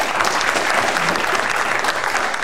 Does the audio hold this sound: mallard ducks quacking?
no